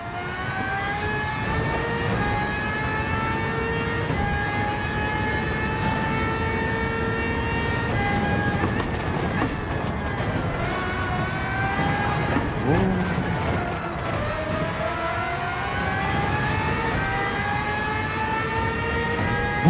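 Racing car engines in the Gran Turismo 7 video game whine loudly and continuously, their pitch climbing and dropping as the cars shift and brake through a race.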